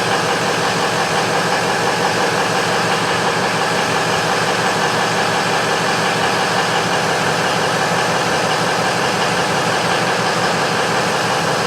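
A 2004 Ford F-350 with a 6.0L engine, troubled by rough running and a coolant leak, idles with a loud, steady, unbroken drone and a faint knocking texture. No voices are heard.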